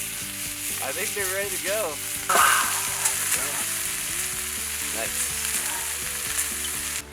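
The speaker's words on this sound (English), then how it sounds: "Give them a little sizzle on that side." Food frying in a pan over a campfire on a frozen winter camp night sizzles steadily and crackles close by, with people briefly chatting over it.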